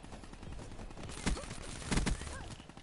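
Rapid bursts of video game gunfire crackle in two short clusters, mid-loud over a steady background rumble.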